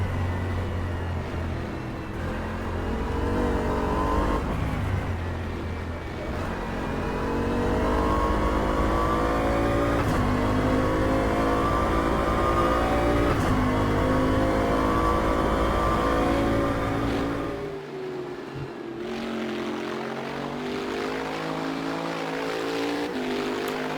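A Bentley GT3 race car in the sim racing game rFactor 2 at the Red Bull Ring, its engine close and loud, revving up steadily through the gears with rising pitch, briefly dropping on a shift or braking before pulling again, with no talking.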